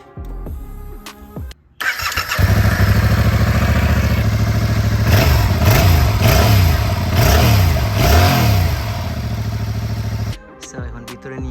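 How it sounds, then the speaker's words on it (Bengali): A stock-exhaust Yamaha MT-07 motorcycle cranks over and catches, then settles into a loud, steady close-range idle with several sharp throttle blips rising and falling before the engine cuts off. "সো এক্সস্ট ইনস্টল করার আগে আমার Yamaha MT07 এ আমি একটা কুইক সাউন্ড চেক দিয়ে দিই আপনাদেরকে।"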